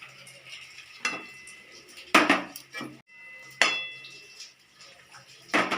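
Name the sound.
rohu fish pieces added one by one into simmering gravy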